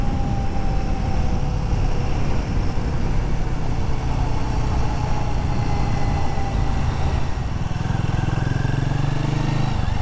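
A Royal Enfield Guerrilla 450 motorcycle engine under a hard throttle pull, a loud continuous roar with rising pitch and strong wind rush throughout, no pauses.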